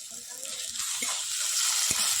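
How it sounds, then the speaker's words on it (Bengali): Ginger paste, chopped tomato and salt being fried into a masala for a Bengali crab curry give off a steady, close, broadband sizzle that grows slightly louder, with faint low murmurs underneath. "মশলাটা এইভাবেই কষানো হবে"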